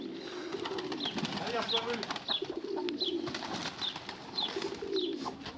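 Pigeons cooing at a pigeon loft in repeated soft calls at an even rhythm, close by, with a bit of background bustle and rustling.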